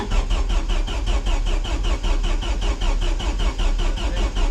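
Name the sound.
Vauxhall Vectra Super Touring race car engine cranking on first start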